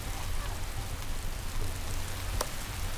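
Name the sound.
rain in video game The Settlers Eastern Realm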